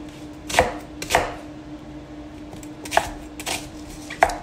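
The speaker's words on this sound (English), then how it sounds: "I'm chopping this too and it goes all into the food processor." An onion being chopped with a knife on a cutting board for a Cameroonian grilled fish dish, sharp separate knocks in an uneven rhythm, close and fairly quiet, with no talking.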